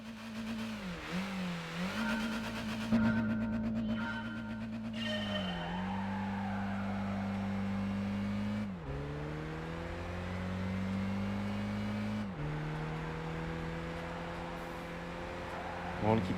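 Race car engine at full throttle in Gran Turismo 5, holding a steady high drone that climbs and drops through several gear changes, with tire squeal in places and a voice talking over it.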